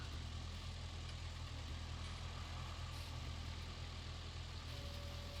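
A tractor engine pulls a hay rake in a farming video game, a steady, continuous mid-low drone that holds an even level throughout with no one talking.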